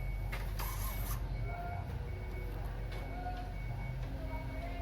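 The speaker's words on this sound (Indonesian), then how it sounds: "sekarang kita tes nyala printer" A DTF roll-to-roll printer powering on after a module is installed, giving a steady mechanical hum with faint electronic tones and brief whirring at the start, close and continuous.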